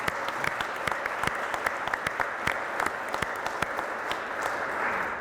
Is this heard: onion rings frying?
no